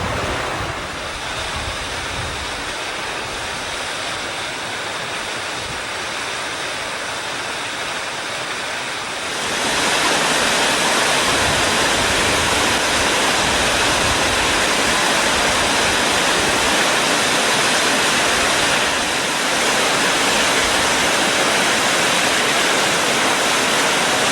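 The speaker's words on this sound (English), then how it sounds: "I'm right at the brink of one of my favorite little waterfalls, Moose Falls" Moose Falls on Crawfish Creek roars steadily from the brink of the falls, a dense, loud wash of rushing water that swells louder partway through and continues unbroken with no voices.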